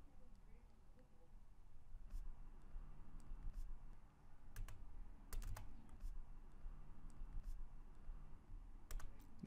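Computer keyboard typing during SOLIDWORKS software work: quiet, irregular key clicks in short bursts over a low steady background hum.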